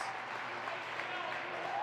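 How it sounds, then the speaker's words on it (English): Crowd applause at a high school basketball game as a senior player rises from the bench, a steady wash of clapping heard from a distance and holding even for about two seconds, with some voices mixed in. "now the big round of applause"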